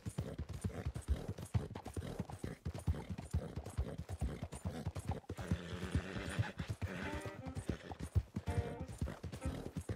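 A horse in the Red Dead Online video game gallops in a steady, fast, rhythmic drumming of hooves, with a brief whinny partway through and a voice speaking faintly now and then.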